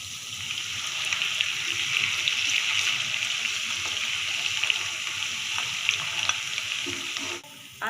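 Green chillies tossed into hot ghee with ginger already frying make a loud, continuous, close-up sizzle and crackle. It runs steadily throughout, then ends in a brief clatter.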